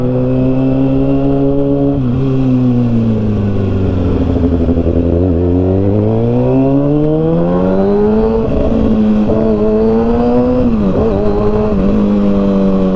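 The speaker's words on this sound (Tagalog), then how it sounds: "napakapino pa nung nung tunog ng makina niya" A Kawasaki ZX-6R (2009) motorcycle engine idles and revs up and down repeatedly, loud and close, with rising and falling pitch and no talking.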